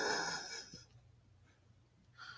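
A man snores in a long, rasping breath, then falls quiet before the next breath begins, heard at moderate distance in a room during a podcast recording.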